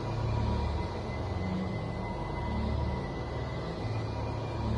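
Dark ambient soundtrack music from the video game Doom 3 makes a steady, dense low rumble and drone without clear melody, holding at moderate loudness throughout the short stretch.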